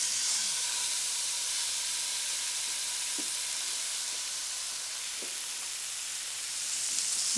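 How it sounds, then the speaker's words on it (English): Seasoned meat sears in a hot frying pan with a steady, loud broadband sizzle that holds unbroken throughout, with a couple of faint clicks of movement in the pan and no talking. "As soon as the meat's willing to move, you can flip it over."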